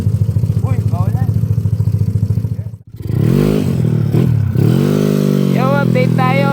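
A 188cc four-valve motorcycle engine revs hard and loud, a rasping buzz that drops away briefly, then climbs again in repeated rising revs, with a voice faintly audible underneath.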